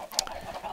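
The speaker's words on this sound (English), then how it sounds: "But we do have a bunch of chickens in there" Chickens in the video game Minecraft give a brief soft cluck or two, faint and close, with no talking over them.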